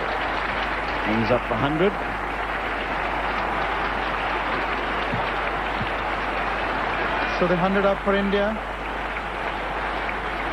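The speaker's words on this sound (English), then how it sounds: "A loud cheer" A cricket crowd at an India versus Kenya one-day final in Kolkata roars and applauds in a constant loud wash, with a commentator talking over it.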